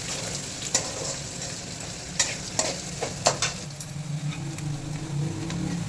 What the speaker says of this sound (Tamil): வெங்காயம் நல்லா ஃப்ரை பண்ணுற வரலி இருக்கணும்